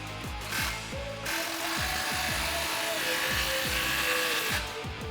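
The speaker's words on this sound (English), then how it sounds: "grab a 15mm deep socket and tighten down that clamp" A 15mm deep socket on a power tool tightens an exhaust muffler clamp on a 2019-2021 Silverado 1500 5.3L, giving a fast buzzing whir with repeated rising and falling pulses, fairly quiet and close.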